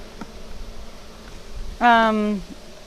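Honey bees buzzing at a nucleus hive, a soft continuous hum with one louder, close buzzing burst lasting about half a second near the end.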